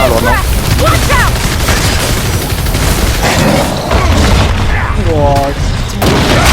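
Heavy gunfire and booming blasts fill the Evolve video game match, dense and loud throughout with rapid bursts and explosions, while players' voices are faintly mixed in.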